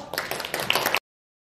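Audience clapping greets a band coming on stage at a book concert in a library, a short burst of dense hand claps lasting about a second before stopping abruptly.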